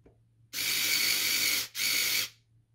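A single screw is driven into a 3D-printed RC trailer part from the outside, with a steady whirring drive in two bursts split by a brief pause, close and fairly loud.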